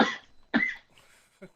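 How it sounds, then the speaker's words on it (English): A man coughs hard in short, harsh bursts, three fits with pauses between, close and fairly clear on a podcast recording. "Coughing up a lung."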